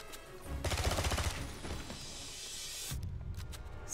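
A grenade launcher fires in the video game 007 Blood Stone, a loud burst of blasts and rapid shots followed by a sustained rumble and a few sharper reports near the end.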